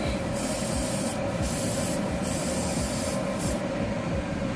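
Spray paint hisses steadily over an MG 1100 scale model as another coat goes on, close and continuous, with a few short louder bursts and no talking.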